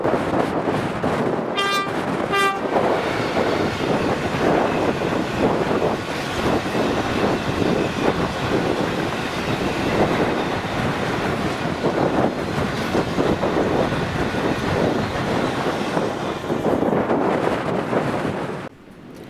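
Engineers train 6Q03 from Kilwinning to Carlisle hauled by Class 66 locomotive 66421, passing loudly with a continuous rumble and clatter in gale-force wind, a short two-tone horn toot early on, no talk.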